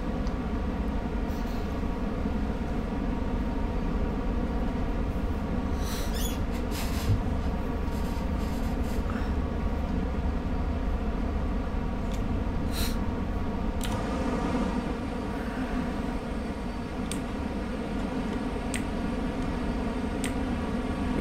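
A Class HST train in the Train Sim World video game running on the Great Western Express route, a continuous loud engine drone with rail hum, and occasional faint clicks and ticks above it.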